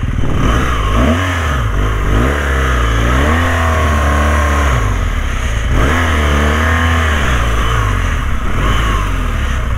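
Motorcycle with mud-caked tires on a muddy trail, the engine revving up and down in repeated rising and falling surges, loud and close, with no voices.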